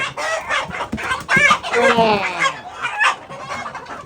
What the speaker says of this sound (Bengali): সবগুলো তো দেশি মুরগি ও